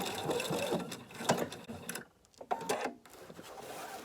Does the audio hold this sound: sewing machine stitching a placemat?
yes